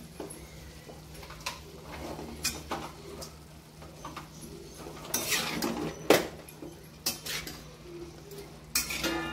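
Utensil scraping and clinking in a pan as dal is stirred into dill greens bhaji, giving a series of irregular metallic taps and scrapes, near and moderately loud, with no talk.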